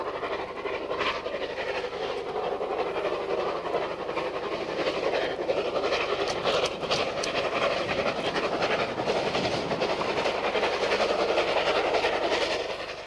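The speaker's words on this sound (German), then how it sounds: "Die Super Elna, eine fünfachsige Dampflok der Kassel-Naumburger Eisenbahn, fährt heute nur für die angereisten Fotografen aus Witten." Super Elna, a five-axle steam locomotive of the Kassel-Naumburger Eisenbahn, runs with a heritage museum train, giving a loud, continuous rumble of wheels and rolling stock with rhythmic clatter and hiss, close and steady throughout.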